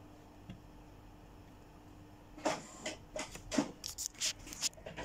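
An HP Photosmart C4783 inkjet printer printing a test page: a quiet hum at first, then a run of clicks, whirs and paper-feed clatter from the mechanism, close by and alone.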